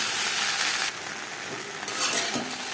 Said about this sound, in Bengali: ভেন্ডি হালকা করে ভেজে নেব।